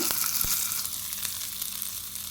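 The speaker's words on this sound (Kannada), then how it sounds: "ಇಟ್ಟಂಥ ಚಟ್ನಿಗೆ ನಾವು ಒಗ್ಗರಣೆ ಹಾಕೋಣ" Hot tempering is poured into tomato chutney, giving a bright, crackling sizzle that starts strongly and keeps spitting steadily up close, with a few sharp pops and no talking.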